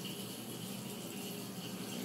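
A needle-felted wool scapular rinsed under running tap water, a steady quiet hiss of flowing water with no talk.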